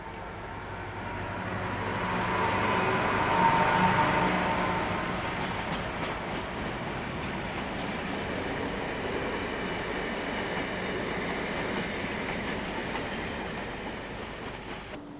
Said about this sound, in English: This is an extra Harlow Mill to Acton stone train in connection with the M11 motorway extension